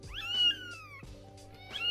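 A kitten cries loudly with two long, drawn-out meows, the first rising strong then fading, a short pause, then a second cry starting at the end, close and clear with no talking.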